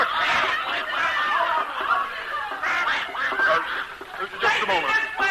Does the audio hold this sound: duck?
yes